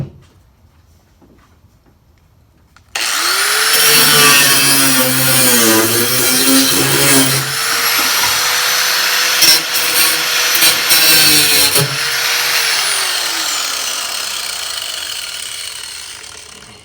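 A loud power tool starts abruptly and grinds steadily through the body metal of a 1967 El Camino for about fourteen seconds, its pitch wavering as it cuts, then winds down.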